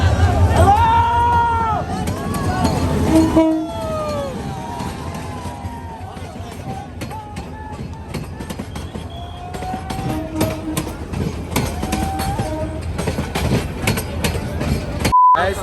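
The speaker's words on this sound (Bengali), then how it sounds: "সামনে একটা ট্রেন আসতেছে অনেক অনেক অনেক মানুষ ট্রেনের উপর" A train packed with crowds riding on its roof passes near the Bishwa Ijtema gathering in Bangladesh after the final prayer. Dense crowd hubbub fills the scene, with rumbling rail noise and tonal horn-like calls rising and fading throughout.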